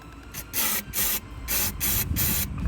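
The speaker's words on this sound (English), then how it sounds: "grab yourself some of this mass airflow sensor cleaner, okay? And what you're gonna do is spray it right on the sensor" Five or six quick hissing bursts of mass airflow sensor cleaner sprayed from an aerosol can onto a car's sensor, each lasting a fraction of a second, close up with short pauses between.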